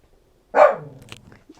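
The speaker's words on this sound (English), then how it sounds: "Ignore the dogs in the background." A single close dog bark, loud and abrupt, trails off into quieter low rumbling and small indoor sounds.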